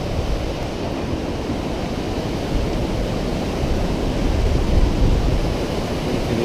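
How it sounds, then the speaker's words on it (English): The glacial meltwater Urubamba River rushing along the Inca Trail, a loud, steady broadband roar of fast water with some wind buffeting, continuous and close with no voices. "The Urubamba River coming down. It's all glacial meltwater."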